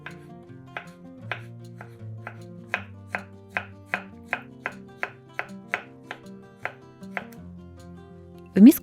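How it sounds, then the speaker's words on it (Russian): Two or three medium pickled cucumbers are cut into sticks with a knife: a steady run of crisp, evenly spaced chops on a board, close and clear above faint music. "Два-три средних соленых огурца нарезаем брусочками."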